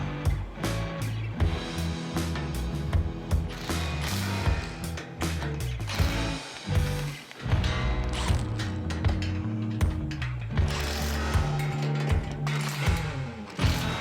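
A ratchet tightens bolts on a skid plate being fitted to a Kubota L3302 tractor, giving rapid, close clicking strokes with repeated metallic clunks that continue in bursts throughout, with no voices.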